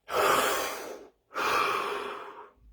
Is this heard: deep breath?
yes